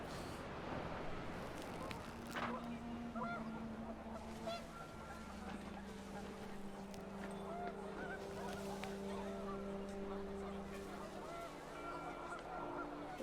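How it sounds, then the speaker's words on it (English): Panicked geese honk in the video game What Remains of Edith Finch, a steady cluster of calls over windy ambience and a low drone, with faint voices underneath. "The wind picked up, and panicked geese appeared and quickly went."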